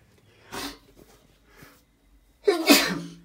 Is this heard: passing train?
no